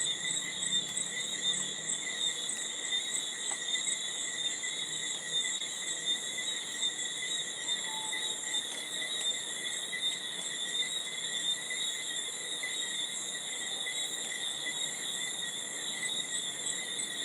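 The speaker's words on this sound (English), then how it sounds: "Yeah, it's a mix of different insects." Toads and cicadas calling together with a mix of other insects, a dense, steady layered buzz of several high sustained trills that fills the whole stretch without a break, with no talking.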